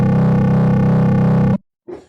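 A sustained chord on the Fabrik synthesizer, heavily distorted by a post-processing distortion block, loud and buzzing for about a second and a half before cutting off, followed by a short quieter burst.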